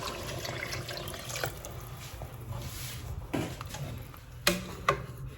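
Tap water runs steadily into a container in a home kitchen while kapoon is being made, a continuous close splashing flow with a couple of sharp clinks near the end.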